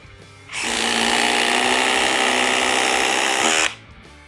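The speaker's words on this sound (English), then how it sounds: "we're gonna see if the larger batteries help drive these fasteners any smoother, any faster" A DeWALT quiet impact driver on a larger battery drives a fastener in one continuous three-second run, a loud, even, close whirring buzz that starts and stops abruptly.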